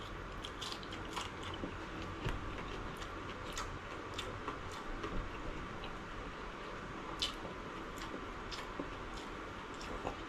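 Repeated crisp crunches of biting and chewing crispy pork belly, close and fairly steady, with sharp clicks scattered over a soft background hiss.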